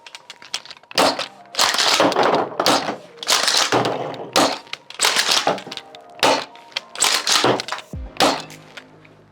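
Plastic shells are pushed one after another into a Nerf Breacher shotgun blaster, giving a loud close series of clacks, snaps and rattling clicks in irregular bursts with short pauses.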